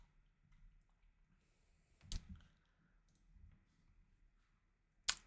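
Two sharp mouse clicks while working in Power BI software, one near the middle and one at the end, with faint room tone between and no talking.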